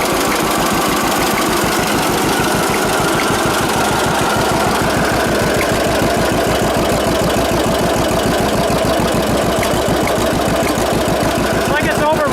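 A 1946 John Deere AR tractor engine runs loud and close with a steady rapid knocking beat that stays continuous and unbroken throughout.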